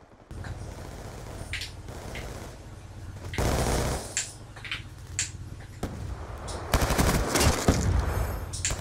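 Gunfire in Call of Duty, with several sharp shots and rapid bursts scattered through the clip, loud and close, over a steady low game rumble.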